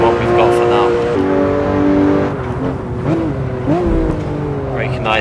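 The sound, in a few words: Porsche race car engine in video game Assetto Corsa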